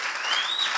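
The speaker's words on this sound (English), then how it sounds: "Let us give a round of applause to all of the men in the room" An audience applauds the men in the room at a Mother's Day church gathering: dense, steady clapping from many hands, fairly close and even throughout, with a faint whistle rising through it.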